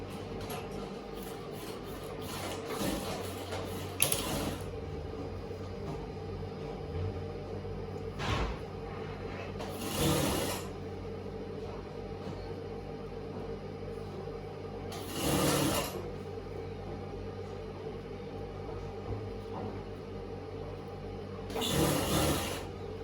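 A sewing machine stitches trousers with a steady, quiet mechanical hum, and louder bursts of rubbing or sliding fabric handling return roughly every five to six seconds.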